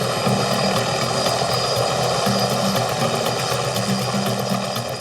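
A helicopter flies on a rescue mission over rugged Maui terrain, its rotor and engine drone loud and continuous with a steady rhythmic thump throughout.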